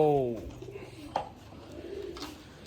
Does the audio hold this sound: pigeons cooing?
yes